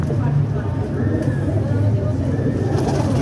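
Pigeons coo in a loft, soft repeated low warbling calls over a busy background with people talking nearby.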